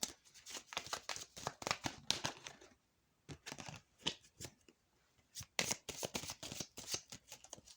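A deck of Eye Candy Oracle cards is shuffled in quick, close riffling bursts, a brief pause splitting two runs of crisp flicking; no voice is heard.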